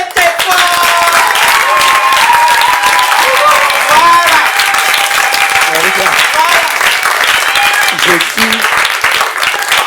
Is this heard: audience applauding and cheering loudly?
yes